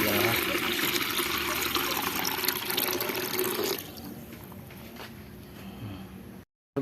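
Coconut water pours in a steady, hissing stream for several seconds, then stops, leaving faint trickles and quieter background sounds.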